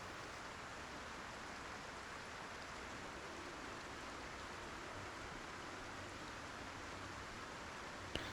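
Steady rain falls in the survival video game Project Zomboid, an even, dense hiss that holds unbroken throughout with no voices over it.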